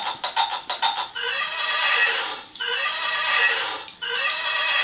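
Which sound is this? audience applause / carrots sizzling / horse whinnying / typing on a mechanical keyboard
horse whinnying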